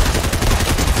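Sustained automatic gunfire from a Fortnite match, loud rapid bursts rattling without pause for a full second, no talking.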